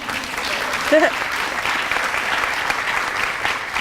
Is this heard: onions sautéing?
no